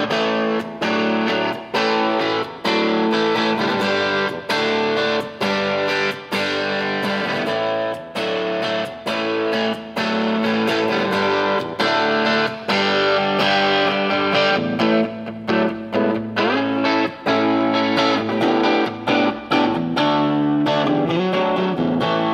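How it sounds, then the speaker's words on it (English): Heavily distorted electric guitar through a Line 6 Spider 30 amplifier, playing chords and riffs, loud and continuous with short choppy breaks between strums. "a Spider 30 by Line 6, which gives you multiple channels for either clean or dirty tones and built-in effects"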